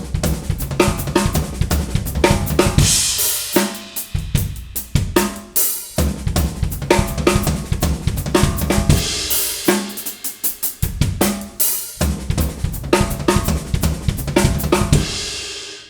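Drums play fast 32nd-note fills with the right hand moved to the floor tom, loud dense bursts of rapid strokes with cymbal crashes, broken into several phrases separated by brief gaps.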